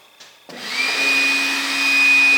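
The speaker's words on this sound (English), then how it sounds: "if you were thinking that it's time for the vacuum cleaner, you, my friends, are right" A vacuum cleaner tidies a workshop after a reloading bench is built, starting with a click and then spinning up into a loud, steady high-pitched whine and rushing air that holds close and continuous.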